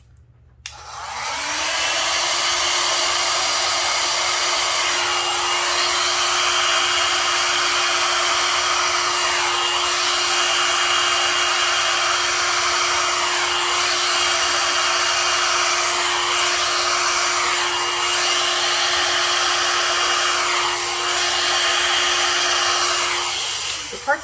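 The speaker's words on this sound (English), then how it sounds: "I'm no expert at the blow dryer thing" A hair dryer blows continuously at close range, its steady whine swelling and dipping as the airflow is moved around.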